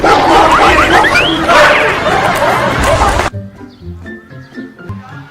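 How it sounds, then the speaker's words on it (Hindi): A dog barks amid a loud, busy outdoor din with chatter and jingling, then the noise cuts away and quieter, repeated barking and yelping continues more clearly on its own. "कुत्ता भाई कुत्ता"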